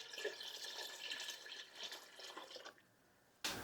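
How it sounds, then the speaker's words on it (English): A gallon of water pours into a soup pot in a home kitchen, a steady splashing rush that runs for a few seconds, then stops before a brief clatter at the end. "And I'm going to add a gallon of water."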